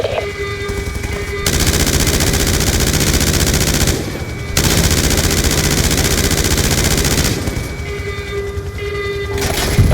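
Sustained automatic gunfire in Call of Duty: Black Ops II plays in long loud bursts with brief pauses between them, dense and rapid, alongside steady mechanical game noise and no talk.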